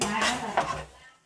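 A jackfruit dish is stirred in a cooking pot, a few scraping clinks of a utensil against the metal over about a second, close and fairly loud before fading out.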